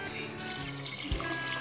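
Water poured into a pot of vegetable biryani, a steady low trickling stream with a brief heavier splash near the end, close and moderately loud with no talk.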